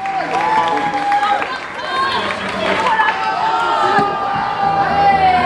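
A concert crowd at a live show in Saint-Vallier applauds and cheers, a dense, loud wash of clapping and voices that holds steady throughout, with a voice heard over it.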